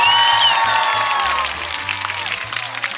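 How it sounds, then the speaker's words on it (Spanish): A short applause sound effect opens a spiritual podcast episode, with a dense burst of clapping and cheering that starts loud and slowly fades over about three seconds, mixed with a musical tone. "Aplausos."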